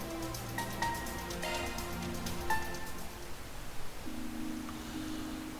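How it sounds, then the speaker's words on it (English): Rain falls in the video game Trails Through Daybreak, a light steady patter blended with soft in-game music and tones, with no voices over it. "And of course it's still raining."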